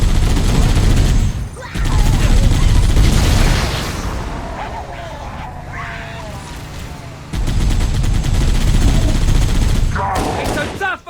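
Halo: Combat Evolved Anniversary battle gunfire, dense loud bursts of automatic weapons and booming blasts, with shouted voices and game chatter over the continuous firefight, a brief lull in the middle before heavy fire resumes.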